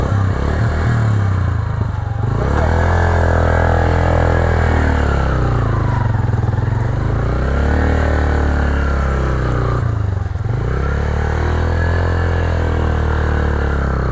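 Motorcycle engine revving loudly on a mountain road near a waterfall, a steady close drone rising and falling in pitch through several throttle swells with a deep low rumble throughout.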